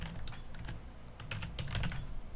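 Fast clattering keystrokes on a computer keyboard, close and continuous, with a low hum underneath.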